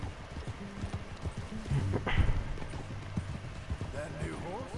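Horse hooves clip-clop in a steady rhythm at close range in Red Dead, with a brief louder clatter midway; game-style ambience runs underneath.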